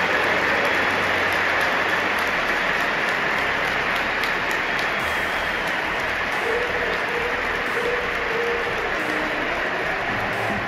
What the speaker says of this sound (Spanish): El Bernabéu retumbó con aplausos y Vinicius agradecía desde el palco.